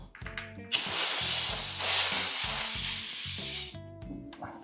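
Air hisses loudly and steadily for about three seconds while an electric bicycle tire is pumped up, with faint mechanical clicks before and after the burst.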